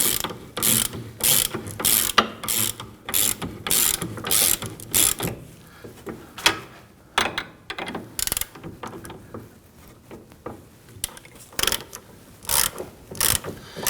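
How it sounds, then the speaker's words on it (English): Hand ratchet with an 18mm deep socket tightening a sway bar link on a 2001-2009 Volvo S60, rapid clicking bursts in a steady back-and-forth rhythm, close and clear with no voices. "Just going to use our 18mm deep socket here. And let's go ahead and snug these down."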